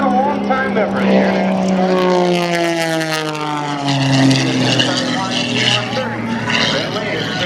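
An aerobatic propeller airplane dives past at over 160 miles an hour at the 2014 Houston air show. Its loud, droning engine sweeps steadily downward in pitch, and an announcer talks over it.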